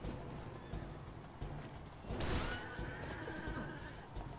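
A horse in the medieval combat game Mount and Blade: Warband gives a sharp whinny over the continuous din of battle noise, a single loud neigh in the middle.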